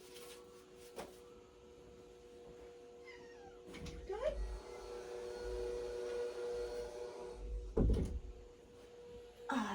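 Indoors, a house cat meows to be let out, giving a few faint, drawn-out calls over a low background hum, with a brief bit of speech and a soft bump near the end.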